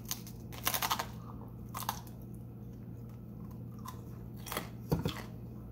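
Crisp crunching bites of radish and chewing sounds come in a few bursts, close to the ear, over a low steady hum with no talking.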